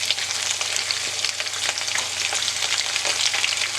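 Meatballs searing in a hot pan give a loud, steady sizzle with crackling spatters throughout, close and continuous with no voices.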